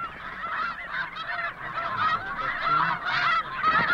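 Snow geese at Sand Lake honk continuously, a dense chorus of overlapping high calls from a large flock, fairly near and without voices.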